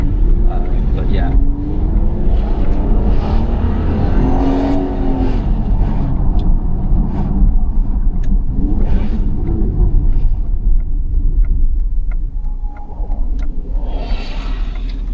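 A 2012 Aston Martin DBS 5.9 V12 Carbon Edition coupé with its exhaust rumbling loudly and revving, a deep continuous engine drone that rises and falls, with voices present.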